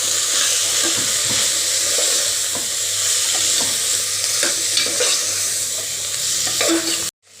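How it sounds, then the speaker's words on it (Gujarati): Fresh coriander leaves, chili powder, coriander-cumin powder and asafoetida sizzle in hot oil for a winter masala vegetable khichdi, a steady close frying hiss with repeated stirring scrapes that stops abruptly at the end. "લીલા ધાણા ઉમેરી અને સરસ આપણે પાછું સાતડી લેશું"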